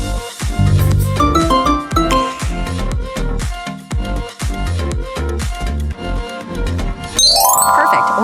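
Oreo logo sound: an upbeat musical jingle with punchy low notes and bright chiming tones in quick rhythm, loud and alone, closing with a rising sparkly flourish.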